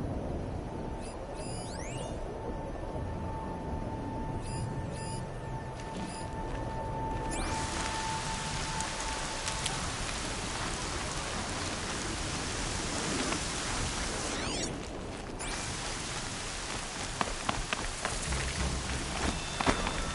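Steady, dense rain in the video game Horizon Zero Dawn hisses continuously, broad and enveloping, with faint scattered drips and a few brief tonal blips underneath.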